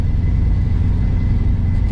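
A 1967 Ford Mustang GT390 engine rumbles steadily while the car is driven, a loud, deep, continuous drone with no talk over it.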